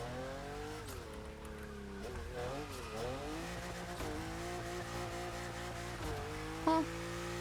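A car drifting in The Crew Motorfest racing game, its engine droning in steady harmonic tones that bend with each throttle shift, and a brief sharp tire squeal near the end.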